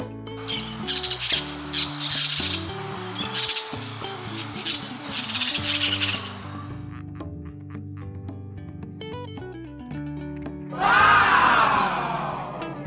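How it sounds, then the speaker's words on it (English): A parrot squawks in a loud harsh burst near the end, after a long stretch of music with no other clear animal call. "It is a parrot."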